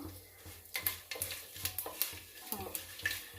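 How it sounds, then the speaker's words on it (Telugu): Mustard seeds and spices tempering in hot oil for radish sambar crackle and pop in quick, irregular bursts, with a ladle stirring and clinking against the pan close by. "వేగాయి చిట చిట అంటున్నాయి"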